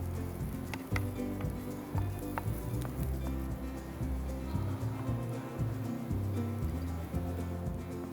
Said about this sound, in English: Then you just wait until the onions and everything is gold